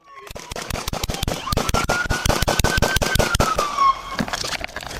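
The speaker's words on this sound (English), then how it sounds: "shots fired!" Rapid gunfire during a police dash cam chase, a dense string of sharp, loud shots in quick succession over several seconds, with a siren-like tone wailing underneath.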